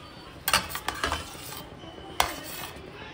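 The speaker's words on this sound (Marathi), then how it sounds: "छान मिक्स करून घेऊ आपण एकत्र" A metal spoon scrapes and clinks against a pan while cheese cubes are stirred into white sauce pasta, a few close scraping strokes in two short bursts, with no talking.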